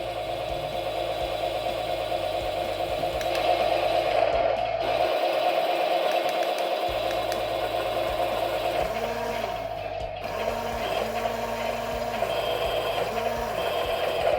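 A 1/24 scale RC Tiger 1 tank buzzes with a whiny electric motor hum as its turret rotates, a steady mechanical drone broken by brief pauses and small pitch sweeps.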